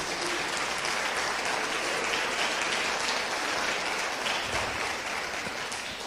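Sustained applause from a large crowd, steady and dense throughout with no voices standing out above the clapping.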